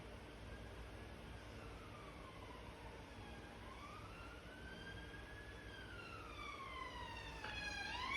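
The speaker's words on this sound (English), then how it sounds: "Police going past." A police car siren wails as it passes, its pitch rising and falling over steady background hum, growing louder toward the end as the vehicle nears.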